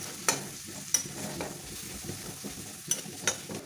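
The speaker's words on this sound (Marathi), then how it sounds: "आता हिचा कच्चेपणा जाईपर्यंत आपल्याला ही पेस्ट चांगली तेलात परतून घ्यायची आहे" Ginger, garlic, cumin and coriander paste being sautéed in oil for an eggplant bhaji, with a low steady sizzle and a few sharp stirring scrapes of a spoon against the pan, no talk.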